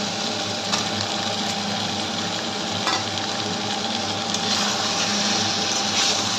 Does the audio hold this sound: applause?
no